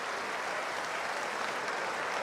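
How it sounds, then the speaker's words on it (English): Steady applause from a basketball crowd at the Canterbury Rams v Auckland Tuatara NBL final, a dense wash of clapping that holds at an even level throughout with no voices standing out. "Can we all give Marie a round of applause?"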